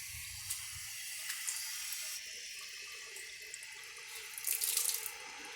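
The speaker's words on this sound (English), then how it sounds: "Adding some water to the bowl." Water runs steadily into a toilet bowl during a repair, a soft continuous pouring hiss with a few brighter splashes near the end, fairly quiet and close with no voices.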